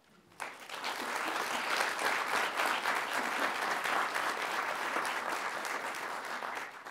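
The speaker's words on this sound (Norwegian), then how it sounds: "det fortjener en liten applaus." Conference attendees at a Norwegian public procurement forum break into applause. The clapping starts abruptly after a brief quiet moment and holds as a dense, even wash until the end.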